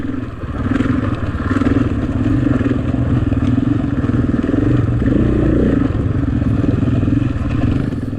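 A dirt motorcycle grinds over a rough bedrock trail, its engine droning steadily and loudly up close with continuous rattling and clattering from the bumpy ground throughout.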